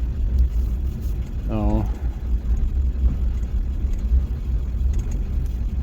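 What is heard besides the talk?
2000 Ford F350 7.3 diesel truck driving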